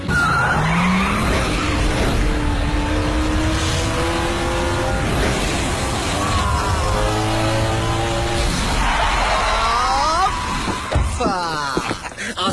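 A Volkswagen Golf GT skids hard with loud, sustained tire squeal and a revving engine, its wavering screech rising and falling over about twelve seconds on asphalt, close and dominant throughout.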